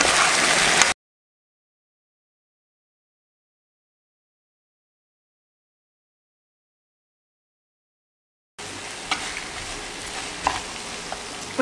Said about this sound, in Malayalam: ഒന്ന് മിക്സ് ചെയ്യട്ടെ ആദ്യം